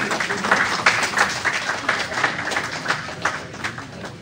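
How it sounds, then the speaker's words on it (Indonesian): Audience applause at the close of an Indonesian leadership Q&A event: steady, dense clapping from a crowd filling the whole stretch at even loudness, with no voices over it. "Iya, mohon tepuk tangan yang meriah."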